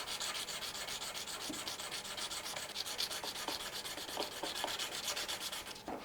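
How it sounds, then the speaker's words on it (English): Sandpaper rubs back and forth over the 10th fret of a cheap Les Paul-style guitar, giving a quiet, rhythmic scratchy rasp with occasional light taps, close and alone. "When you start getting the fret down with the sandpaper, you can hear the difference."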